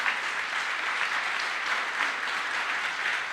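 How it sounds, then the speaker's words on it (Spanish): A church congregation applauds during a sermon, a steady, dense wash of many hands clapping that stays loud and even throughout, with no voice heard. "Merece un aplauso glorioso el nombre del Señor"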